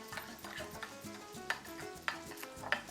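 Coleslaw is stirred in a bowl with soft, wet mixing sounds broken by a few sharp clicks of utensil against the bowl, quiet and near, with no talking.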